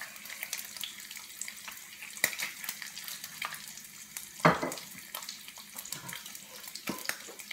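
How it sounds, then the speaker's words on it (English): Strips of bacon frying in a Gotham Steel 9.5-inch non-stick titanium skillet with potatoes nearby, a steady close sizzle and crackle broken by a few sharp louder spits and clatters, no talking. "we have a couple extra strips of bacon that are still cooking"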